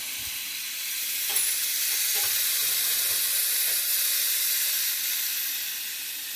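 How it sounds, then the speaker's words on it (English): Ground pork and beef cooking under a lid in a home kitchen pan, a steady bright sizzle and hiss with faint pops and scrapes, close and continuous with no talking. "I got my two different kinds of meat here going. With my ground pork and my beef now."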